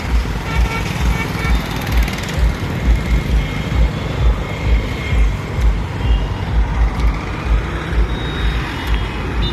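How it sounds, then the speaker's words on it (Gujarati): Busy Morbi bus stand with buses and road traffic, a dense continuous rumble of engines and crowd-like noise that stays loud and even throughout. "આ છે મોરબીનું બસ સ્ટેન્ડ."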